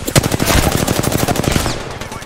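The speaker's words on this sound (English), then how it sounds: "My god, I'm just getting fucking shot." Rapid automatic gunfire in Call of Duty, a dense, loud burst of closely spaced shots running continuously for about two seconds.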